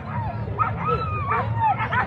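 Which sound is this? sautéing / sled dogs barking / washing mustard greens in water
sled dogs barking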